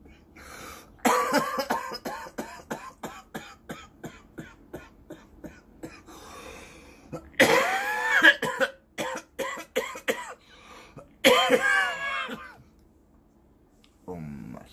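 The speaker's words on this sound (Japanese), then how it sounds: "ほんま咳込むわ" A person coughs repeatedly in short harsh bursts, with a few longer coughing fits and a throat clearing, close and loud.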